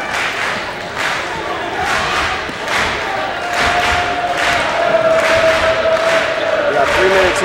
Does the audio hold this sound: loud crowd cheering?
yes